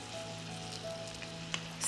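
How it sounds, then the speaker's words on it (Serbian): Liver fries gently in a pan over low heat with a quiet, even sizzle and occasional small pops or taps of a utensil. The sound is faint and close, and there is no talking. "Džigericu pržimo na nižoj temperaturi jer hoćemo da ostane mekana, a ne prepečena"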